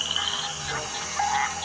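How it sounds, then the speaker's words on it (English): Rapid high-pitched chirps of male Mexican white-lipped frogs repeat in a dense chorus, fairly loud and close, with a steady insect-like hum in the background. "the Mexican white-lipped frog makes a series of chirping sounds"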